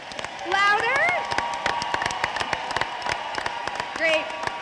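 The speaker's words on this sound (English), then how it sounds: "If I could ask everyone in the room to give a quick round of applause" A conference audience in a hall gives a quick round of applause: dense, steady clapping throughout, with whoops and raised voices rising above it near the start and again toward the end.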